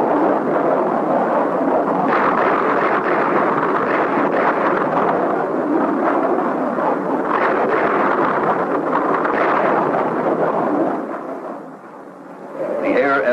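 Massive B-52 bombing runs at Khe Sanh, with a loud, continuous wall of rumbling explosions that rolls on for most of the stretch, briefly easing near the end before swelling again.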